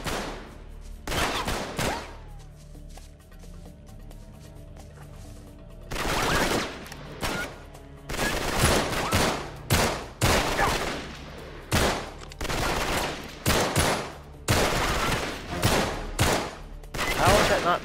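Gunfire in the video game Uncharted 3: Drake's Deception comes as repeated loud bursts of automatic shots, short volleys spaced by brief pauses, growing denser and more rapid toward the end.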